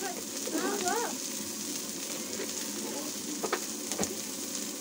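Chopped cabbage and onion frying in a pan, a steady close crackling sizzle that runs throughout with a few sharper pops and clinks, moderately quiet, with a voice speaking faintly beneath it near the start.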